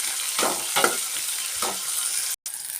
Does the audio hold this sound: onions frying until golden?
yes